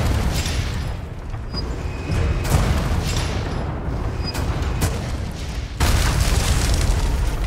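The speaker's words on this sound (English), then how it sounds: "I am loving the use of these cannons." Cannons firing at the castle battlements in Resident Evil 4, with heavy booming blasts rolling one after another over a dense, loud roar of game noise and no pause between them.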